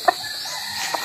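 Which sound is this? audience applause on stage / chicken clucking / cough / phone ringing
chicken clucking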